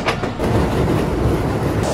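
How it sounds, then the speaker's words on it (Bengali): A train leaves Lahore Junction in Pakistan's Punjab, bound for Rawalpindi, with a loud, close rumble of rolling wheels and a rattling clatter of carriages, steady and unbroken. "আর একটা ট্রেন রাওয়ালপিন্ডি অভিমুখে যাত্রা করেছে"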